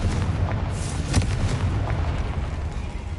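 A Confringo blasting spell cast in the video game Hogwarts Legacy bursts out as one sharp blast at mid-clip, with fainter pops around it over a dense rumbling game bed.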